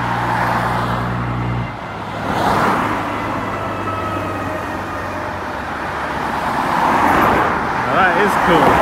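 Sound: Mercedes car passing on a misty road

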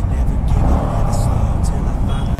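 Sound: Yamaha MT15 motorcycle stock exhaust sound while riding

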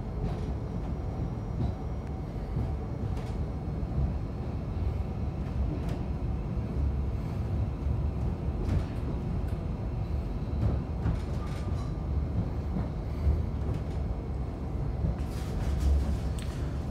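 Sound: passenger train running

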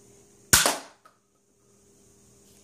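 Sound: small toy pistol firing

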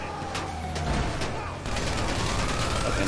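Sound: gunshots in a video game

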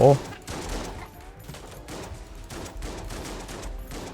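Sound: shotgun gunfire in the video game Enter the Gungeon

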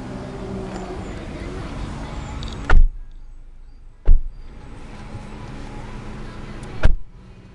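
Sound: 2010 Nissan Sentra car on a test drive

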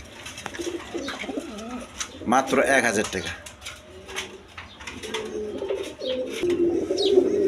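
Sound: pigeons cooing

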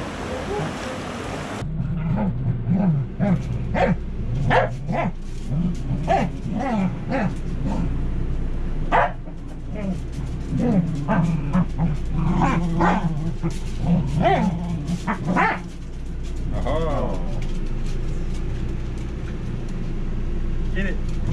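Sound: wet dog barking and whimpering

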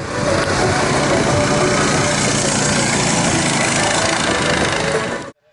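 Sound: roaring engines at a snow rally race

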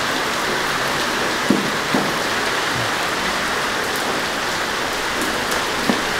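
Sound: rain falling on plants and grass, getting heavier

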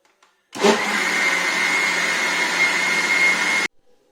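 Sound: wet grinder grinding soaked rice into appam batter

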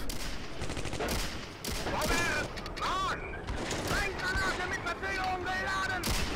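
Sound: tank cannon fire in video game Steel Fury

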